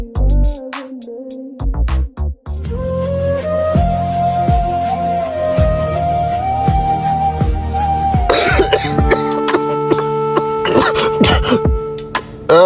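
A person coughs near the start, a few harsh bursts, before tonal music and street noise take over; voices are heard around it.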